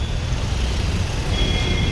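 Dense road traffic noise in Bhiwandi, a continuous low rumble of vehicles with steady hiss, heard close without distinct individual events.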